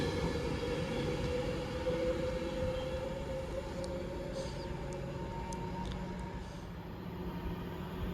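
An Avanti West Coast Class 390 train, unit 390126, running from Manchester Piccadilly to London Euston at Watford Junction, gives a steady, fairly faint rumble that holds throughout.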